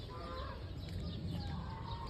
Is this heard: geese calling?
yes